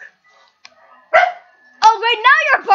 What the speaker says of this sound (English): Oh, great, now you're barking, that's great.